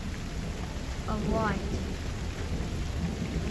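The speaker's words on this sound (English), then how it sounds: "Can you hear the thunder?" A low rumble of thunder rolls under steady rain during a storm outdoors with a tornado watch in effect, and a person speaks briefly partway through.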